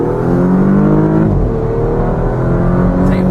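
A 2017 Porsche Panamera accelerates hard, its engine a loud, close, steady drone whose pitch climbs as it pulls, with no voices over it.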